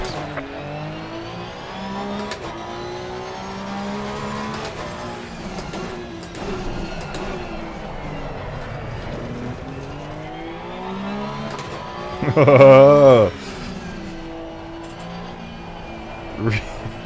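Race car engine in the Assetto Corsa Competizione sim racing game pulling away from a standstill in first gear, a steady droning note that swells briefly into a loud rev, with someone talking over it.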